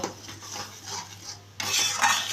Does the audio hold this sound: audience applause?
no